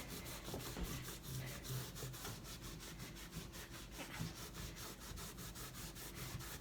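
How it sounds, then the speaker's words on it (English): A wet rag rubbed over the sides of a wooden trunk to distress its finish, producing a steady close scrubbing rasp with rapid back-and-forth strokes and no talking. "just get the sides and wet distress"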